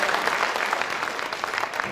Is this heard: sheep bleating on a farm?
no